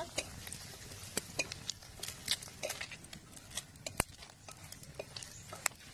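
Dried red chilies crackle in hot mustard oil, a steady low sizzle dotted with sharp ticks and small pops, plus a loud click near the middle, heard close with no talking.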